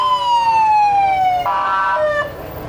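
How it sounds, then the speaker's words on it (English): A parade fire truck's siren wails loud and close, a falling electronic tone that abruptly jumps pitch midway, then trails off with a rumble of the truck's engine beneath, no talking. "it's got a nice siren on it, too, as you can hear"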